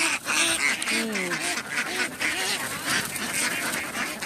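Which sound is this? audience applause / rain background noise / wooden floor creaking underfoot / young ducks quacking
young ducks quacking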